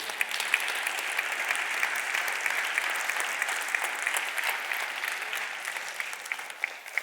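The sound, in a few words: congregation applauding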